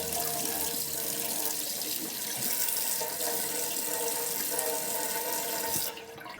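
A Pilot Parallel calligraphy pen is rinsed under a running sink tap, with water pouring in a steady, close rush that thins out slightly near the end.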